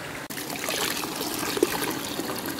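Water from a mountain stream trickles and dribbles steadily through a soil filter, a close, continuous liquid patter with no talking.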